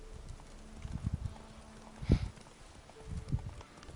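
Horse hooves clip-clop at a gallop in The Witcher 3, a few irregular thuds with one heavier strike near the middle, fairly quiet against a soft game ambience.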